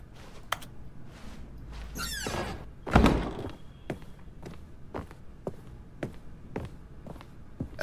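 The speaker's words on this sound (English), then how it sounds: "that door closed up" A door closing in the video game The Stanley Parable: a sliding rumble ends in a solid thunk, set among evenly spaced footsteps that tap on before and after it.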